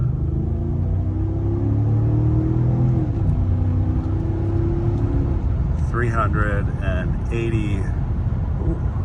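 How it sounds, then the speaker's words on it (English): An Audi RS5 drives past, its engine a steady, fairly loud drone that shifts in pitch and then fades into road rumble, with a person talking near the end. "Audi RS5. That car might be faster than this car, the one that just went by."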